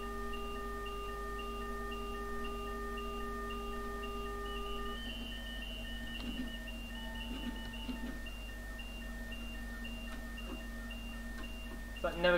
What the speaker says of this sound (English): Is that never going to stop beeping?